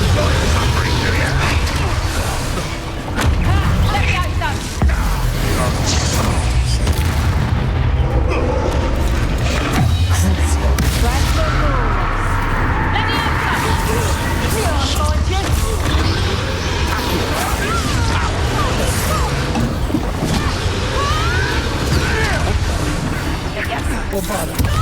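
Bombarda blasting spell explosions in Hogwarts Legacy, a dense, loud barrage of booms and crashes with rumbling low end running continuously throughout, mixed with game noise and voices.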